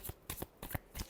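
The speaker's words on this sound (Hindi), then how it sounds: "Last shuffle." Tarot cards are shuffled close by in several quick, crisp bursts of riffling and slapping, with short pauses between them.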